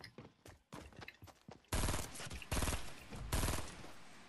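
Bursts of heavy machine gun fire in the Fortnite battle game, a few dense, loud volleys of rapid shots that follow lighter scattered shots, with no talking.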